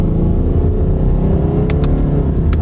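A car engine revs high and holds a loud, steady whine, with a few sharp clicks near the end.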